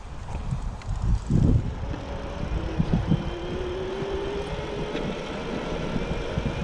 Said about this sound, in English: I'm in grass, and I'm gonna use throttle only and just see how I take off